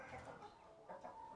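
Chickens clucking nearby on a farm, soft repeated clucks and murmurs over a quiet background in a brief moment.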